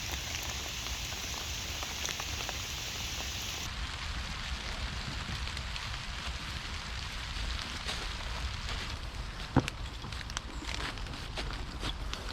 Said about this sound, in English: Ah, it's raining now actually.